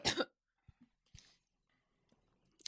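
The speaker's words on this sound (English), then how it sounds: "I had to cough right at the moment where I was trying to retake control of the show" A single sharp cough bursts out, followed by a few small throat sounds and clicks in near silence, then another brief burst at the end.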